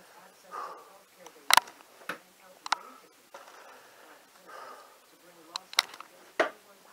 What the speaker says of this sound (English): love the sound of dart hitting wood